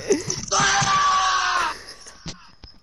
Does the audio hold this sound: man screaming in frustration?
yes